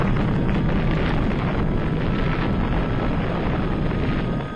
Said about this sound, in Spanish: lo que provocó la explosión del hidrógeno acumulado en su interior